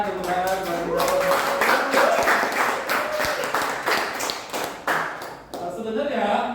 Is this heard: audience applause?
yes